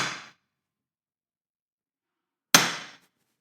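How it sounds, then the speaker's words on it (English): Two sharp metallic taps of a hammer striking a center punch on a metal bracket ring out, spaced a couple of seconds apart, each decaying quickly into silence. "Center punch."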